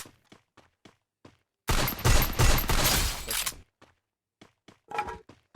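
Free Fire game gunfire: sparse sharp shots, then a loud sustained two-second burst of rapid automatic fire, followed by more scattered single shots.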